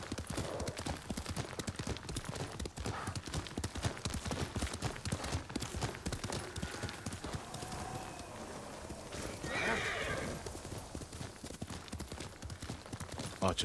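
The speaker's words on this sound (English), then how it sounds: "Right, come on, horse." Hooves clip-clop in a fast galloping rhythm in the video game Ghost of Tsushima, steady and mid-distance, with a horse whinnying partway through.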